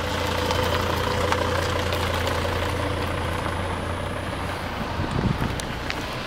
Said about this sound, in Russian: Например, проезд по нему 2-тонного автомобиля.